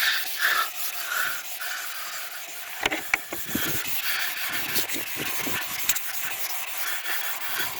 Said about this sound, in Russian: кто-то шкурит только вдоль профиля, кто-то просто матирует